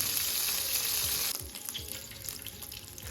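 Chicken shallow frying in butter for a butter chicken dish sizzles loudly and evenly, then the sizzle drops and thins into quieter crackles and spits with a few soft knocks.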